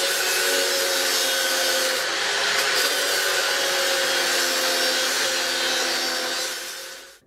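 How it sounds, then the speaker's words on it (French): A grinding disc works over a welded seam on a metal knife, a loud, steady abrasive rasp that holds for about six seconds before tapering off, close with no talking. "on meule où on a soudé"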